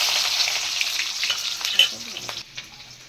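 Onion and cumin seeds frying in hot oil give a steady, close sizzling hiss with small stirring clicks, easing off toward the end.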